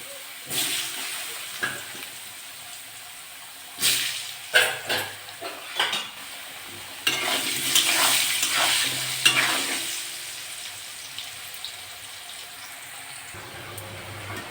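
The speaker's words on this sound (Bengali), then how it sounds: "আলুগুলো ভেজে নেবো" Potato pieces with turmeric and salt frying in hot oil, a sizzling hiss broken by several clattering stirs of a utensil against the pan, close and moderately loud.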